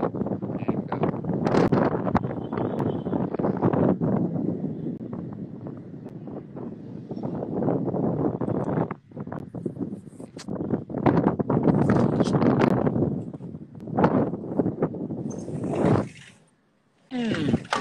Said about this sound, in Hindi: एक्चुअली बहुत ज्यादा हवा चलती है